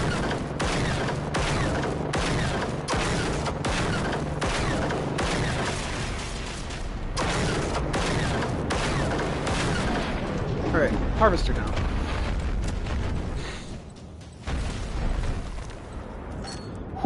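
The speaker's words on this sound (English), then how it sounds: "Keeps shooting at me with rockets." Rockets fired at the player in a shooter game, with a tank and harvester in the fight: a steady barrage of booming blasts and mechanical rumble, dense and loud throughout, with voices talking over the fire.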